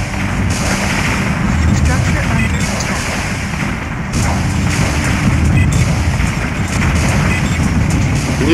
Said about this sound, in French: Leur canon défensif nous pilonne un peu.